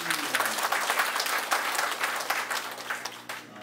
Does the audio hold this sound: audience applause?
yes